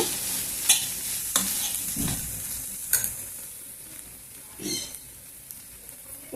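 Potato and cabbage curry is stirred in a pan over a low, steady sizzle. Scattered spoon scrapes and knocks land about once a second.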